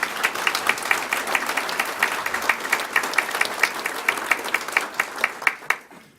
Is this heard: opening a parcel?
no